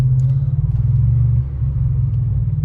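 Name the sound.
2012 Ford F-150 with ARH catback exhaust burbling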